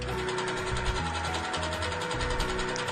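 Sewing machine quilting a quilt top at a steady, moderate stitch speed, a close continuous mechanical whir with a rapid rhythmic needle chatter, fairly loud and without talking.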